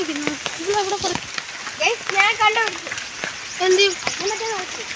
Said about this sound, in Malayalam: മഴ ചാറുന്നുണ്ട്